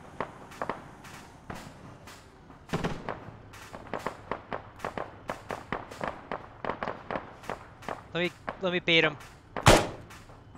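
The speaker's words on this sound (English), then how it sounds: "That's fucking mortar!" Mortar fire and explosions in Arma, heard as scattered sharp cracks and thumps at irregular intervals, with a few louder bursts near the end, while someone talks briefly among them.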